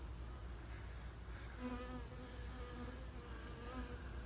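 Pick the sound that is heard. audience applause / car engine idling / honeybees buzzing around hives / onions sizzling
honeybees buzzing around hives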